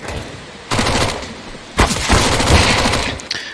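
Two bursts of rapid Mac-10 submachine gun fire ring out in a Counter-Strike match on the Overpass map, loud and close, each a rattling volley separated by a brief pause, with no talk.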